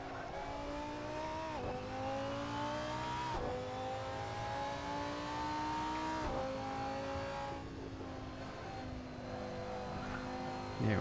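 A GT race car engine in a sim racing game at the Nurburgring, droning steadily and dropping through gears with several downshift blips, the pitch falling and climbing again, close and continuous.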